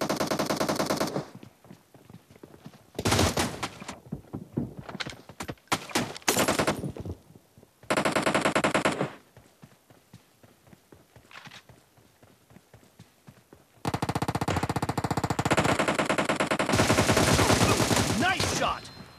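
M762 assault rifle fire in a shooter game match, loud bursts of rapid automatic shots in several bouts separated by quieter gaps, ending in a long sustained stretch of fire.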